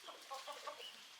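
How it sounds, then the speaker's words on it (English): Chickens clucking softly on a small farm after being herded into their pen, a scatter of short, faint clucks and murmurs with no voices over them. "The chickens are in."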